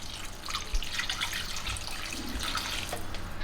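Water pours steadily from a tap into a pot of goat leg curry, a continuous close splashing flow with a few drips, no voices.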